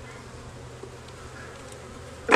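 Honey bees hum faintly and steadily from an open hive during a colony split, with a soft low drone and a short louder buzz near the end.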